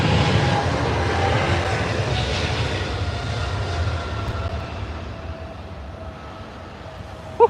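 A jet airliner departing from Heathrow roars in a broad, steady rumble that gradually fades as it climbs away into the distance.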